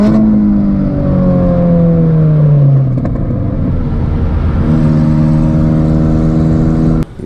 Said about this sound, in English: Jetta's running smooth as butter.